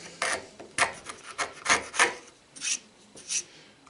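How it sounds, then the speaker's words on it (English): A sharp chisel scraping and paring at a wood joint glued with Titebond III, a series of about ten short rasping strokes in an irregular rhythm, close and fairly quiet with no talking. "now my sharp chisel on the Titebond 3"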